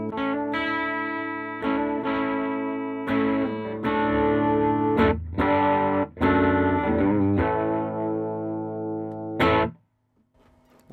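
Electric guitar played through a Supro Black Magick Reverb combo amp with no pedals, giving loud, slightly overdriven chords and riffs in several bursts with short gaps, ending abruptly in silence.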